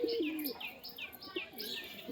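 Pigeons at a home loft coo softly with low, rolling notes, mixed with brief higher chirps that repeat every half second or so, close by against a steady background hum.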